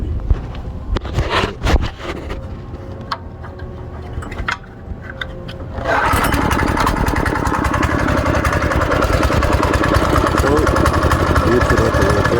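Small Yerf Dog go-kart engine running on choke, a rough buzzing idle under intermittent talking that jumps abruptly to a louder, steady, raspy run halfway through and keeps going.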